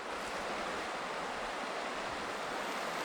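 A river flows in a continuous broadband rush of water, steady and moderately distant, with no voices over it.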